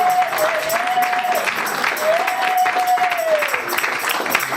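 A church congregation at a Christian wedding applauds and claps steadily to acclaim the Lord, a dense, continuous wash of clapping filling the room, with a sustained tone gliding above it.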